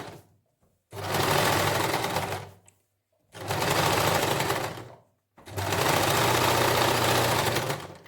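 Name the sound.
sewing machine stitching a wool suit neckline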